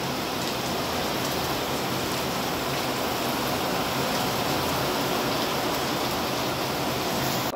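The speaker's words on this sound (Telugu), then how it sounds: "వర్షం అయితే ఫుల్ వస్తా ఉంది కదా." Heavy afternoon rain pours down as a dense, steady hiss of falling water, loud and unbroken throughout with no voices.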